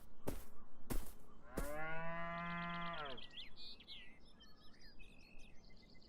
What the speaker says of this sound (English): I found a cow.